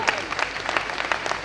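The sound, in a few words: audience applause at a ghazal recital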